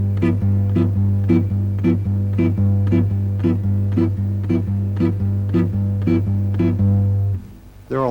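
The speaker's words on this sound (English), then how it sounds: "There all the chords are coming on the off beat." Fingerstyle jazz guitar plays a steady pattern of chords landing on the off beats over a sustained low bass note, with evenly spaced chord stabs that ring out before a final change near the end.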